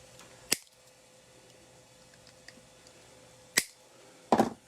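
Sharp snips as axle heads are cut off a Hot Wheels die-cast toy car with a cutting tool: three crisp, close clicks spaced apart, the last a quick double, over a quiet background.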